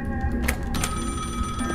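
A telephone rings in the horror game Ignited Entry, steady repeating bell tones sounding over a low ambient drone, fairly loud and close with no talking.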